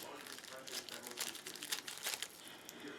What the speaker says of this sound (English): this isn't easy to open, so I'm just going to stick my scissors in here